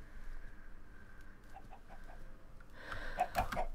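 Chickens cluck in short bursts toward the end, fairly close, over faint outdoor background noise.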